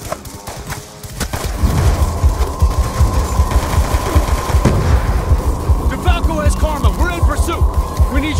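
Loud, dense automatic gunfire from the Black Ops II video game starts after a brief lull and continues almost without pause, with rapid overlapping shots and booms.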